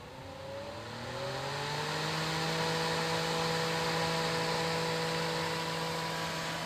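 An electric fan spins up to blow air across a hot heat sink during an 11.2 amp discharge test of a deep-cycle marine battery. The whirring hum rises, then holds a steady, fairly loud drone with a few tonal lines.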